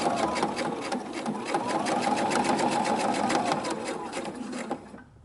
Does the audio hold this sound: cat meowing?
no